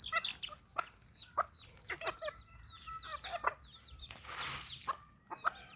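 Hen clucking softly and repeatedly near chicks in a rural yard, short irregular clucks and chirps with a brief rustle of flapping wings, no talking.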